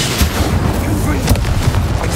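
An Expulso blasting spell in the Hogwarts Legacy video game goes off as a dense, rumbling explosion with sharp cracks, loud and sustained across the whole moment amid battle noise.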